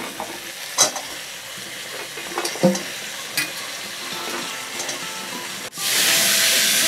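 Drumsticks (moringa pods) stirred in a hot pan with salt and turmeric: spatula scrapes and clinks over a steady sizzle, swelling into a loud, bright hiss of frying near the end.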